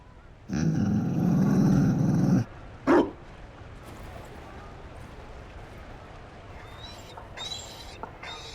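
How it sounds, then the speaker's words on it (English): A Mabari war dog from Dragon Age: Inquisition lets out a loud, sustained growl lasting about two seconds, followed by a single sharp bark, then quieter game ambience with faint sounds. "You found a dog? They don't breed Mabari in Olay."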